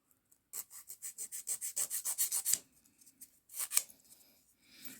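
Acrylic nails are shaped by hand with a nail file, about a dozen quick, rhythmic rasping strokes in a close burst, a short pause, then a few more strokes, all soft and alone.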